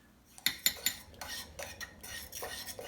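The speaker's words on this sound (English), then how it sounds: "I'm just stirring until all this cheese is melted" A spoon scrapes and clinks against a pot while cream cheese is stirred into slow-cooker chicken and rice soup, with a few sharp knocks early on followed by softer, irregular scraping strokes, close and moderately loud.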